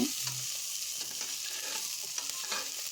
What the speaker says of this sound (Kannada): ಹಾಗೆ ಟೊಮೆಟೊ ಹಾಕಿ ಸ್ವಲ್ಪ ಸಾಫ್ಟ್ ಆಗೋ ತನಕ ಫ್ರೈ ಮಾಡ್ಕೊಂಡು